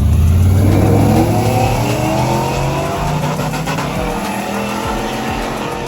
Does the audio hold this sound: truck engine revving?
yes